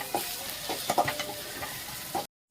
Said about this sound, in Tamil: இஞ்சி பூண்டு பேஸ்ட்டு போட்டு பச்சை வாசனை பிறகு வதக்கியாச்சு